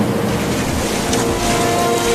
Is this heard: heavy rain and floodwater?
yes